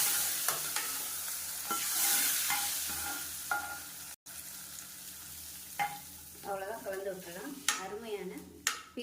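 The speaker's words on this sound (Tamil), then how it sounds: "இப்போ நம்ம தாளிப்பை கடையில் சேர்த்துருக்கோம் இந்த அளவுக்கு நல்லா வறுக்கணும்" A tempering of spices fries and sizzles in a kadai for peerkangai kadayal, a steady crackling hiss with stirring scrapes and clinks of a utensil against the pan throughout.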